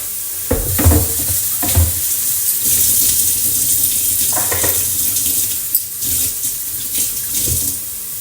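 Tap water runs into a sink while white beans are washed by hand, a steady close splashing with intermittent knocks and swishes of beans and water being stirred.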